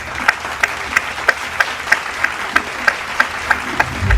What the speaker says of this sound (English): A big round of applause for Madam Ghazala Rahman.